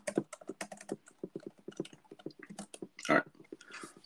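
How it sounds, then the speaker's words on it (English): Computer keyboard typing, close and clear, with rapid irregular keystrokes in a continuous run and one louder clack near the end. "let me just type that"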